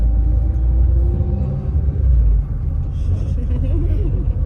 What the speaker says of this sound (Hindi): गाइस, हम कैब में बैठ चुके हैं और निकल चुके हैं मॉल के लिए।